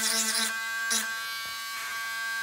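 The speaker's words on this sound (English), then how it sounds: "I'm just grinding these off" A rotary tool grinds away parts on a Trumpeter 1/32 scale F-105G plastic model kit, giving a steady close buzz with a couple of brief louder bursts.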